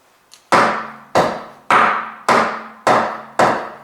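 Six evenly spaced, sharp hammer blows ring out one after another, each a loud crack with a short metallic ring that fades before the next strike, heard alone and close.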